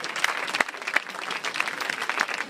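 A large audience at a Kumar Vishwas event in the Bay Area claps steadily and densely, with some sharper individual claps, filling the whole stretch with continuous applause.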